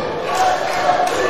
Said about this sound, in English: Ronation cheering for Duke Hudson